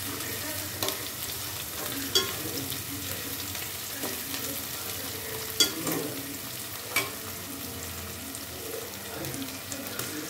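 Mint leaves fry in a pan for chicken curry, a steady low sizzle with scraping stirs and a few sharp clanks from the utensil against the pan, close and moderately quiet with no speech.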